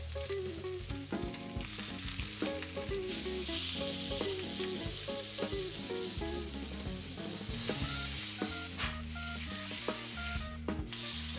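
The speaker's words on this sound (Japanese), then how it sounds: "これの表面をこんがり焼きます。" A block of pork leg sizzles loudly as it sears in a hot pan, a dense crackling fry with bursts of spitting and some scraping as it is turned.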